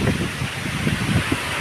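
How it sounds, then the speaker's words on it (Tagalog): Strong wind gusts through coconut palms, a continuous broadband rush and rustle of fronds with uneven surges, close and fairly loud. "Tingnan niyo po naman, ang lakas ng hangin."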